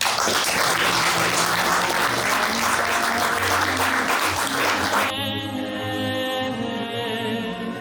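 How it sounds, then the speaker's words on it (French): A church congregation gives a loud, dense burst of applause and cheering for the Lord, steady for about five seconds before giving way to a sustained organ or keyboard chord with the crowd noise fading beneath it. "Nous une acclamation pour le Seigneur."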